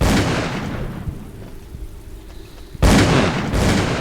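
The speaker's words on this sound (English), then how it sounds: "Are they just gonna keep on shooting at nothing?" Heavy, booming gunfire in the Call of Cthulhu video game rolls through the clip, dense and loud, easing off for a stretch before a sudden powerful burst resumes near the end.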